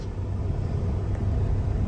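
A Ford truck pulls away towing a camper, giving a steady, loud low engine rumble that holds close and even throughout.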